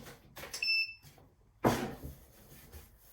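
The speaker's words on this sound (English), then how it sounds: "That beeping noise is a safety feature of the mug press to let us know that it's on" A short, high-pitched electronic beep from a Presto mug press signalling it is on, followed by a soft clunk and quiet handling noises nearby.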